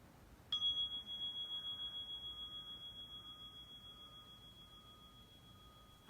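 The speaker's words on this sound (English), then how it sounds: "you might want to turn the sound down right after I ring the chime" A mindfulness chime is struck once and leaves a clear, bright metallic tone that rings on and slowly decays, alone in a quiet room.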